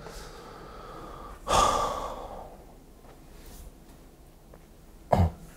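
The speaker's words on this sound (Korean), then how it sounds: "미안해, 기침 때문에 그래." A close, heavy cough bursts out once, followed after a pause by a second short, sharp cough, over quiet room noise.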